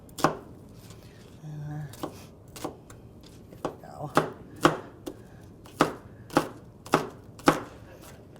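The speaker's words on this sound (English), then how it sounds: "once you start chopping there, then we can just chop them this way too" Knife chopping ingredients on a cutting board for homemade flavored butter during a library cooking class, a steady series of sharp, close thuds, with a person talking briefly.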